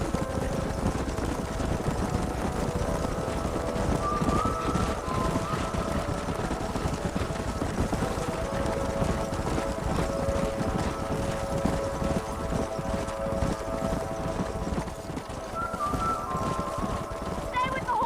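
Horses are driven in a herd up a narrowing canyon in Red Dead Redemption, their hooves a continuous clattering rumble beneath talk and a sustained musical score.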